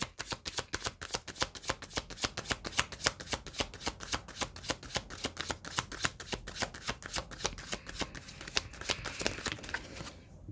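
Tarot cards being shuffled and drawn from a deck: a rapid, continuous run of crisp riffling card flicks at close range, quiet and without talk, slowing slightly near the end.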